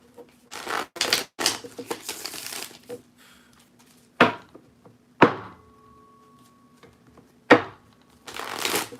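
Tarot cards being shuffled hard in several loud, papery riffling bursts separated by pauses and sharp thumps of the deck, close up, with a faint tone lingering in one gap.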